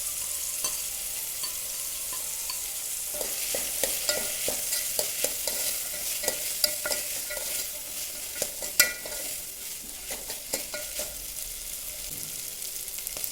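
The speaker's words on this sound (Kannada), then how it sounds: "ಶುಂಠಿ ಬೆಳ್ಳುಳ್ಳಿ ಪೇಸ್ಟು ಹಾಕ್ಕೊಂಡು ಚೆಂದ ಕಲಸ್ಬೇಕು" Ginger garlic paste with peas stirred and fried in oil for veg pulao, a steady hiss of frying under repeated scraping strokes of a spoon against the pan, close and continuous.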